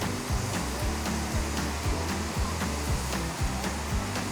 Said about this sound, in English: there are 3 people up there power washing the metal roof on top of Wilderness